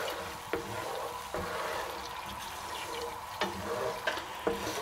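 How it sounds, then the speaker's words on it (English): A sauce of lemon juice, wine and marmalade bubbles and simmers in a pan on high heat, a soft steady sizzle broken by a few light clicks and taps. "And we'll just boil that just until it reduces by about half."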